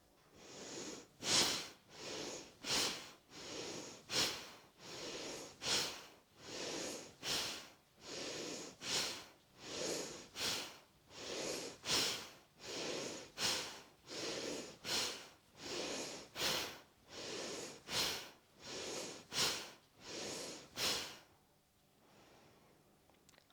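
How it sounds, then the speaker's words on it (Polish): Rapid, forceful bhastrika yoga breathing: about a dozen loud, evenly spaced nasal huffs in and out, close and rhythmic, then a quiet exhale as it stops. "zrób głęboki wdech i 12 razy oddech pastrika"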